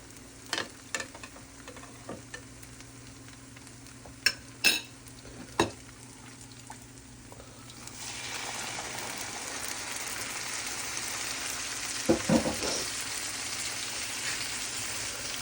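Dried fish mash stirred in a pan for a spicy shutki bharta, with a few sharp spoon scrapes at first, then a steady sizzle that swells after about eight seconds, close and alone.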